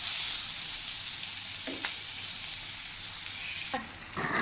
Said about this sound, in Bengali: তো কড়াইতে আমি চিকেনটাকে ভালো করে কষিয়ে নিচ্ছি